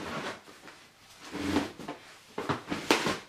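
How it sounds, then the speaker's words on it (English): A plastic storage drawer full of yarn slides and rattles as it is pulled open, a series of scraping clatters and knocks at close range, the loudest bumps coming near the end. "I have it all in a neat little plastic drawer, so that's where the noise is coming from"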